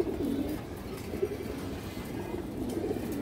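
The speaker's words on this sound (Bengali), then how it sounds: "হারামি ব্লাড লাইনের কবুতর এগুলা" Chuina pigeons cooing steadily in a loft, a continuous layered murmur of low rolling coos from several birds, fairly close and with no talking.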